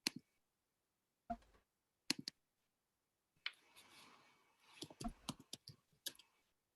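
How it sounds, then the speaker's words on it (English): Hard, forceful typing on a computer keyboard during a live forex trading session, with isolated clicks at first and then a dense flurry of rapid keystrokes over a soft background hiss, fairly close and fairly quiet. "Someone typing hard, man."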